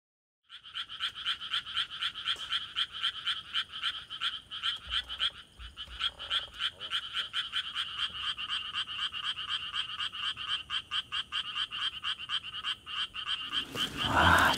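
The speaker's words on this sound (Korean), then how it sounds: "날씨가 따가울 정도로 청개구리가 울고 있는 밤입니다." Tree frogs croaking at night by a reservoir during a fishing session, a loud, dense, rapid pulsing chorus close by that runs steadily throughout with no talk.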